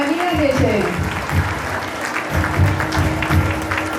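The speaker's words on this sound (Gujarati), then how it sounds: "જરા તાળીઓ તો પાડો" An audience claps at a community gathering, a steady broadband patter heard alongside voices and a sustained tonal hum, fairly loud throughout.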